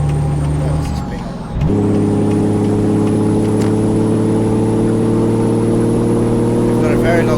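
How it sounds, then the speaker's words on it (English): A Peterbilt 389 with a Cat engine in Euro Truck Simulator 2 shifts from loud engine drone to a deep, steady engine-brake rumble that holds close and constant after a short dip. "That engine brake sounds so much better with the cat engine."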